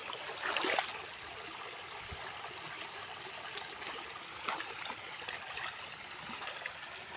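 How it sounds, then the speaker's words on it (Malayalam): Rainwater rushes and trickles steadily over a flooded road during light rain, a constant moderate flow with occasional gurgles and splashes. "ഇന്നത്തെ മഴയിൽ ഞങ്ങളുടെ റോഡ് മൊത്തം വെള്ളം കയറി"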